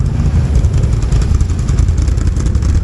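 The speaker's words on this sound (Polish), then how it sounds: "Tutaj też kanam 1000 z wyciągniętym wkładem." A Can-Am 1000 quad idling with its exhaust insert removed, a deep, loud, steady rumble close by with a throaty low-end drone and no speech.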